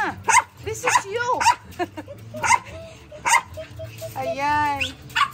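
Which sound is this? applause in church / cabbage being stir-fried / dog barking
dog barking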